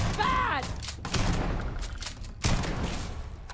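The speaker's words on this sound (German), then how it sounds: "Da ging der erste Schuss voll drüber weg." Bursts of gunfire and thuds in the video game Starfield, rapid sharp shots and impacts mixed with game sound and voices.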